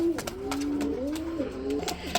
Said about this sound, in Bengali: আজকে মাগনা দামে আপনাদেরকে একজোড়া শৌকিং কবুতর দিব, যাদের কালার রয়েছে ব্লু বার কালার